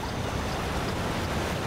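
Steady rushing water from a waterfall in the SpongeBob SquarePants: Battle for Bikini Bottom video game's Kelp Forest level, a continuous even roar with no pauses and no talking.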